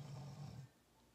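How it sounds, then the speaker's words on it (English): A sleeping pet snores indoors in a single low, rumbling drawn-out breath that fades to near silence, close but quiet. "can y'all hear him snoring?"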